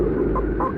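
A rooster gives a quick pair of close, clear clucks in under a second, with no one talking.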